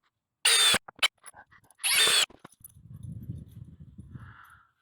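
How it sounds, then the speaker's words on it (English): A new puppy near a workshop where wooden nursery benches are being built, giving two sharp, loud broadband bursts followed by a low, rumbling growl-like sound and a brief higher whine at the end, with no talking. "This down here is Babs. That's the new puppy"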